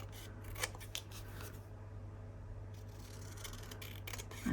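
Scissors snip through paper down a centre line, a few faint, close crisp cuts over a steady low hum, quiet throughout.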